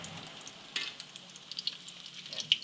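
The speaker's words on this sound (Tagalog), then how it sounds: "piniprito na po siya." Bola-bolang bidbid fish balls mixed with patola fry in hot oil, giving a faint, steady sizzle with small crackles and pops scattered throughout.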